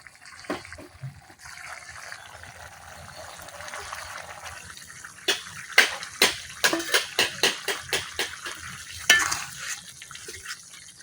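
A village-style curry of tilapia and puti fish with onion cooking in a pan. A quiet simmer and sizzle opens, then a run of rhythmic spoon taps and scrapes as it is stirred.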